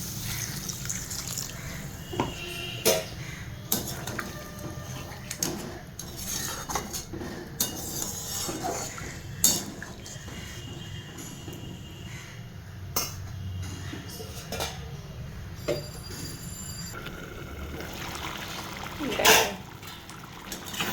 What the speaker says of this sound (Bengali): এবার জল দিয়ে দেবো একটু